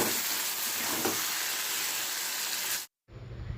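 Potatoes fry in hot oil in a pan, a steady loud close sizzle that runs on and then cuts out abruptly before the frying noise resumes.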